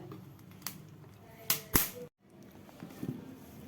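Corn kernels roasting crackle and pop, with a few sharp, loud snaps standing out over a steady low background hiss, followed by a brief moment of silence.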